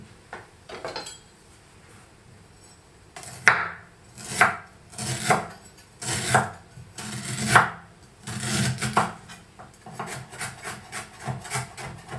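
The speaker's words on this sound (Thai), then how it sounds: "ขิงนี้เราจะใช้สับละเอียดนะคะ" Fresh ginger chopped finely with a knife on a wooden board: a slow series of crisp, close knocks, some spaced and some in quick bursts, with quieter scraping between strokes.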